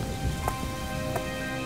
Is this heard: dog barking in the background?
no